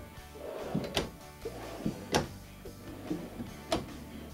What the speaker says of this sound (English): these are full extension ball bearing drawer glides.